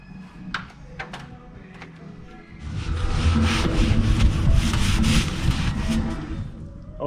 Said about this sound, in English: Just going to do a quick wipe with some acetone and we'll be ready.